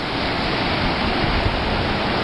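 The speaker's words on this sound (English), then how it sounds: "The water has come up really high, but the waves are breaking further out." Ocean waves breaking further out from a small shore on a warm sunny day, heard as a dense, steady wash of broadband surf noise, loud and continuous with no voices.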